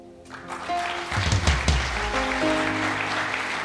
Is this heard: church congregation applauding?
yes